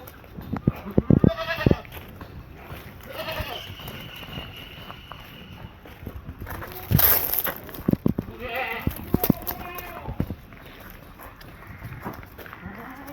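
Goats for sale bleat in several quavering calls, some loud and close, amid shuffling and scattered clatter, with a few faint voices in the background.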